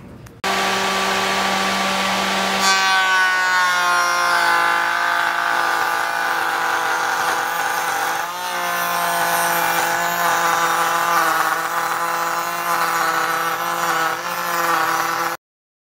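A router spinning up and cutting a mitered rabbet joint in wood, a loud, steady high-pitched whine with a rising start, holding near constant with a small dip in the middle and a sudden stop, with no talk.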